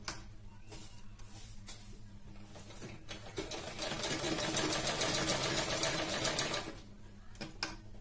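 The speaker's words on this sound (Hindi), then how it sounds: "यहाँ पे तिरछी सिलाई करना है" A sewing machine stitches a slanted blouse seam, its motor whirring up into a steady, rapid clatter mid-clip, with clicks before and after, close and alone.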